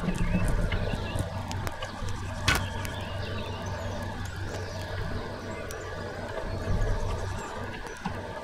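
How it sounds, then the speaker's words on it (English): Hooves clip-clop steadily at a riding pace in Kingdom Come: Deliverance over a busy game soundscape, with a sharper knock partway through and no talking. "Show you the horse riding."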